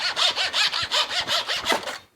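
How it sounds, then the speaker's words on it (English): A hand saw cuts wood held on a bench hook, with eight rhythmic back-and-forth rasping strokes, close and loud, then stopping abruptly. "This area over here is where you can saw."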